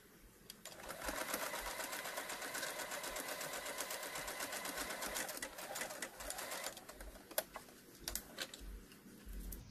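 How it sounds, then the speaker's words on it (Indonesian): A sewing machine stitches a cloth face mask in rapid, continuous bursts of mechanical clatter that stop and restart, followed by a few sharp ticks and clicks as the work is adjusted. "Kita jahit, balik lagi."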